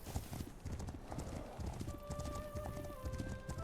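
Horse hooves clip-clop in a quick, steady rhythm in Legend of Khiimori, close and clear, with a few sustained tones entering partway through.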